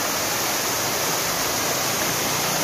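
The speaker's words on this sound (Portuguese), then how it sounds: "Tem essa cachoeira aqui. Aí acima dela tem outra. São duas quedas." Steady, broadband rush of a waterfall on a mountain trail circuit, a lower drop with a second fall above it, roaring continuously and fairly close with no other sounds.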